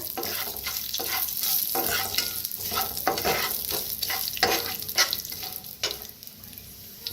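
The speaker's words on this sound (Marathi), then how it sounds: "आता तेल चांगलं गरम झालंय जी धन बारीक करून घेतलं होतं आपण ते तेलात भाजून घेऊया" Finely ground coriander roasts in hot oil in a pan, a loud, close sizzle broken by repeated scraping strokes of a spoon stirring, with no talk.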